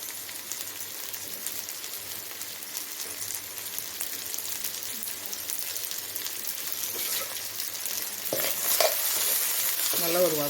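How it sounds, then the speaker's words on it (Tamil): Onions and spices for podi idli sautéing in a frying pan: a continuous close sizzle under repeated stirring and scraping, which grows louder and busier near the end. "நல்லா ஒரு வதக்கு வதக்கிட்டு நம்ம இட்லி போட்டுக்கலாம்"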